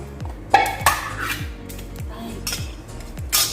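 Metal utensil scraping and clinking against a bowl while a corn mixture for coffee jelly is stirred, several sharp clinks near the start followed by softer repeated scrapes, close by, with a brief voice.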